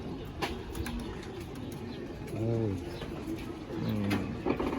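Pigeons in a loft give a few low, rolling coos, close and moderately loud, with clicks and rustling around them and murmured voices in the background.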